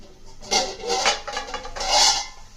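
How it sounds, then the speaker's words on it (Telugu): Potato pieces are stirred into chana dal curry in a cooking pot, with a ladle scraping and rubbing against the metal in several close, uneven strokes with no talking. "ఇప్పుడు దీనిలో చక్కగా కోసి పెట్టుకున్న టమా బంగాళదుంప ముక్కలు వేసి చక్కగా కలిపిదాం"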